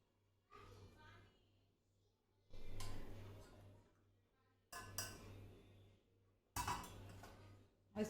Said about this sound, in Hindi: इसको धीरे से मैं मिलाऊंगी।